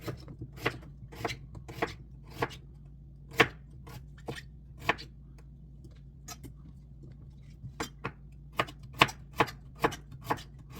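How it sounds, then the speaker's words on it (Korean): Knife thinly slicing ingredients on a cutting board for monkfish stew, a series of irregular crisp chopping taps close by over a quiet kitchen hum, faster in clusters toward the end. "얇게 썰어줍니다"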